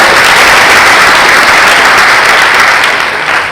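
Loud, sustained applause from a large audience at a hackathon closing ceremony fills the room, dense clapping that holds steady and eases slightly near the end.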